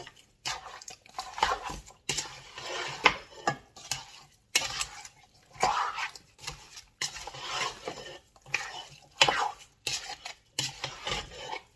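A mixture is stirred in a pot for a winter family recipe. A spoon scrapes repeatedly against the pot in rhythmic bursts separated by short pauses, close up, with no talking.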